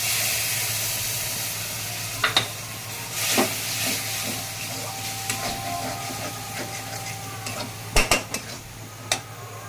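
Okra frying in a pan hisses and sizzles steadily as a little water is added, with occasional sharp clinks of a spoon against the pot punctuating the continuous crackle.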